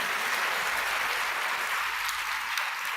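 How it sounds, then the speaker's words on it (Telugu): An audience at a church sermon breaks into steady, dense applause that holds at an even level for a few seconds with no clear voices over it. "చప్పట్లు కొట్టండిరా"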